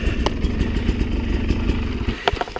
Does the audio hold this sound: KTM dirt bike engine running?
yes